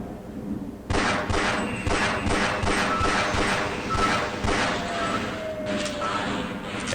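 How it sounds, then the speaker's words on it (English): Pistol fire aimed at an automated turret in Half-Life, a rapid series of sharp gunshot cracks mixed with impact thuds and crashes, loud and close, running steadily for several seconds. "we can also use the pistol to shoot at its legs."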